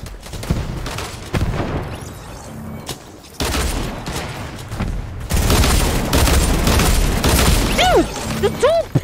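Dual pistols fire in a Fortnite match, bursts of rapid gunshots and booms arriving in uneven clusters over busy game sounds, with a player's voice heard between the volleys.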